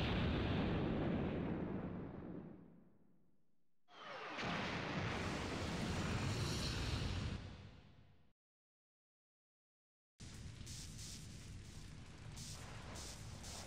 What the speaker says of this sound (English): Trinity blows up the tram.